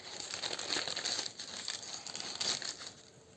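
Cardboard gift box crinkles and rustles as it is folded flat by hand, a soft close series of crumpling and creasing sounds with no talking.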